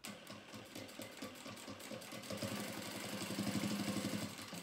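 A sewing machine stitches a zipper lining in a quick, rhythmic mechanical chatter that runs continuously and grows a little louder and busier partway through, close and quiet, with no talk.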